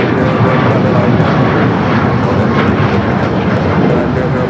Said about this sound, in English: United Flight 2692 coming up from Newark. 787-9 Dreamliner.